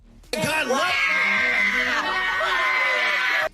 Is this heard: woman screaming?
yes